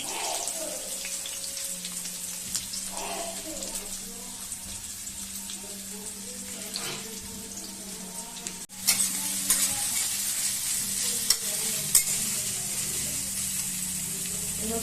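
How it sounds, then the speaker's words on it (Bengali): Oil sizzles steadily in a pan as onions fry, with occasional stirring and scraping; a brief clatter near the middle, then the frying grows louder and brighter as chicken gizzard and liver go in. "প্রথমে আমি পেঁয়াজটা দিই আগে পেঁয়াজটা দিয়ে একটু হালকা ভাজা হলে"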